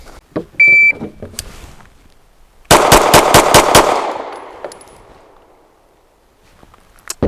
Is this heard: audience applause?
no